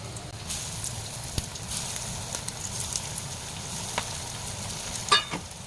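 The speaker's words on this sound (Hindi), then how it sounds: "अब हम इन्हें डीप फ्राई करेंगे" Poha and potato rolls deep-frying in oil in a kadhai, giving a steady soft sizzle and bubbling close by, with a few faint clinks.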